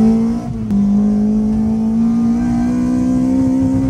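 A Toyota Corolla engine fitted with individual throttle bodies revs loud and close, holding a steady rising drone after a brief dip in pitch early on, with no talking.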